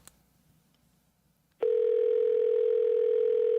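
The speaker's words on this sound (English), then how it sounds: "Your call could not be connected." After a moment of near silence, a telephone dial tone from the video game Dead Plate starts abruptly and holds as a loud, steady, unbroken tone to the end.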